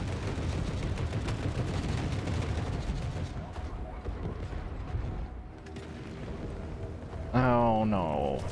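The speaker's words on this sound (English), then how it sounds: "Gunfire on the other side of this." Bursts of gunfire in the video game The Forever Winter rattle on continuously, dense and fairly loud, fading toward the end before a voice and musical tones cut in.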